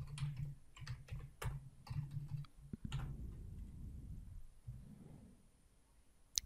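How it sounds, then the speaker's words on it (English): Close computer keyboard typing of Python code, a run of quick uneven key clicks in short bursts over a faint hum, thinning out toward the end with a final sharp click. "Let's type this code again"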